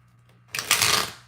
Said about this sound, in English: Sorry, I'm shuffling while I'm talking.